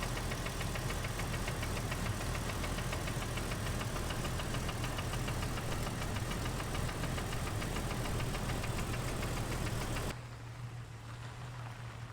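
A lifted Jeep TJ drives off with its engine running, giving a loud, steady rumbling drone and vibration. Near the end the level drops as the engine note eases, and nobody speaks.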